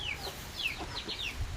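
Chickens cluck softly in short, repeated bursts, a few birds chattering close by against a quiet background.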